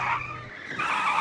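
Car tires screeching in a skid during a scene from The Sopranos, a loud sustained squeal lasting about a second with engine roar beneath it.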